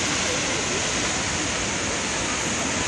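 Krimml Waterfalls in Austria: a dense, continuous roar of falling water, loud and broadband like heavy rushing noise, filling the whole scene without pause or variation.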